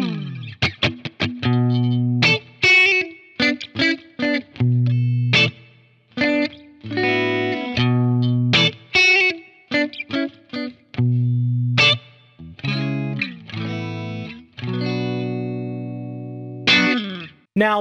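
A Fender Telecaster Player Series electric guitar on its clean middle pickup position plays a lively run of plucked notes and chords, some quick and staccato and others ringing out, heard alone.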